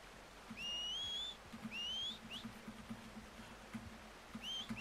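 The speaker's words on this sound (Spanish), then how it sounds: "Se cansa de silbar y todo" Clear rising whistles repeat a few times, each a short sliding tone, over a quiet steady background with faint rhythmic thumps, in the video game Red Dead Redemption 2.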